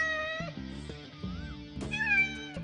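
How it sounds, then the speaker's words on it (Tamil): A cat meows, the sound carried under music with a steady tonal backing, the meow tones rising clearly near the end. "ஓ கேட்."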